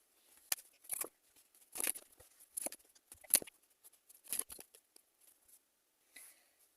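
Tarot cards handled and laid out in a quiet room: a sparse run of soft, brief papery flicks and taps in irregular clusters, close and faint, with pauses between them.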